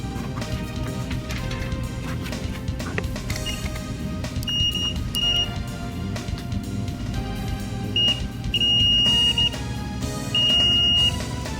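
A multimeter's continuity-test beeps while probing a fuse on a Sega Dreamcast board, several short, steady electronic tones sounding over a busy background of music or noise.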